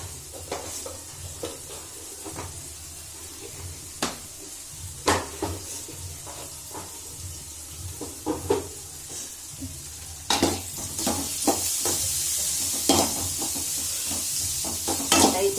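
Bitter gourd (karela) bhaji is stir-fried in a pan, giving a steady soft sizzle broken by repeated sharp scrapes and clinks of the spatula against the pan.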